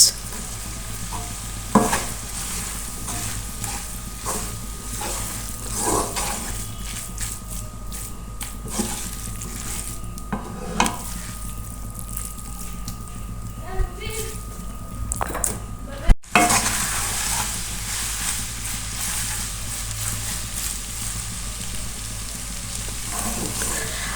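Noodles are stir-fried in a pan with tasting salt, giving a steady sizzle broken by scraping and stirring clinks, a few louder knocks against the pan, and a low hum underneath.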